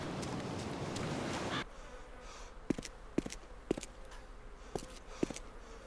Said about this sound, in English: I hear the flies buzzing around inside of the firehouse.